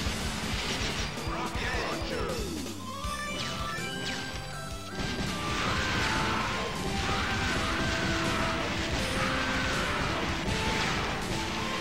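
Bombs burst in rapid succession in the arcade video game Metal Slug X, loud crashing explosions layered over busy game music and effects, continuous and dense.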